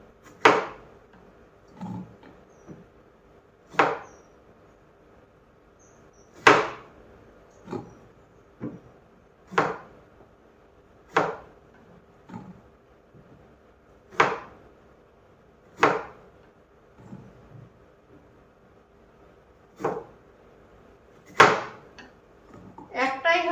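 Vegetables chopped with a knife on a cutting board in a home kitchen: a dozen or so sharp, separate knocks at a fairly steady pace, with quieter clicks between them over a low background.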